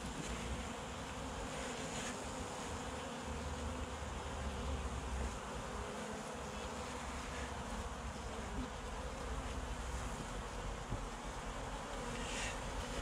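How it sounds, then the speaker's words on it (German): A honeybee colony hums steadily and densely during a hive inspection in an apiary, the close, continuous buzz of many bees holding at an even level throughout with no voices. "Das ist ein Bienenvolk, wo möglicherweise noch vereinigt werden muss."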